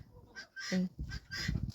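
Farmyard fowl kept alongside quail, rabbits and nutria give sharp, honking screeches, a short cluster of loud nasal calls close by, with little else around.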